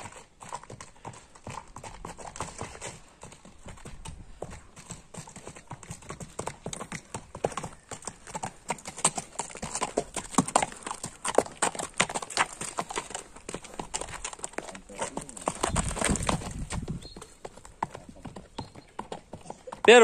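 Hooves of a white-grey horse for sale clip-clopping steadily on hard ground as it is led about, a long run of close, even footfalls with occasional louder thuds.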